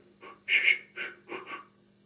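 A voice imitates a steam engine puffing: a few breathy, wheezing pants in an uneven rhythm, close and fairly soft, with no talking.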